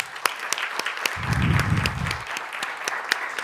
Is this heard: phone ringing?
no